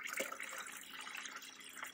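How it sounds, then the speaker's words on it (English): Water is poured into the tank of an Arctic Air Tower cooler, a steady soft trickling and splashing that runs continuously at close range, fairly quiet. "I got some water, and it's very easy to pour."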